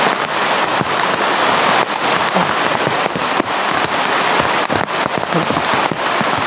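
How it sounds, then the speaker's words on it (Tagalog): Heavy rain pours down hard and steadily, a loud, dense hiss with scattered sharp patters and gusty wind buffeting a camera microphone throughout, no talk. "Napakalakas talaga ng ulan dito mga ka-idol."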